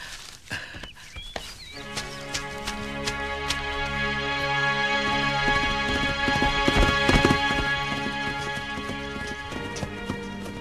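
Horse hooves clip-clop steadily at close range for about ten seconds, a regular walking rhythm that grows slightly louder midway, with a brief whinny near the start and no talk.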